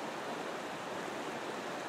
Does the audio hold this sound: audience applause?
no